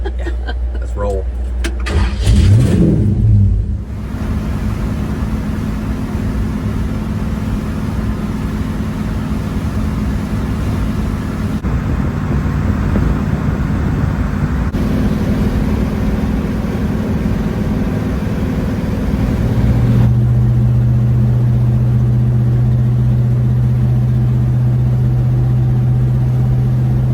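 A truck's engine runs steadily while driving, a continuous low rumble throughout with a louder burst near the start and a heavier drone in the last few seconds; no speech.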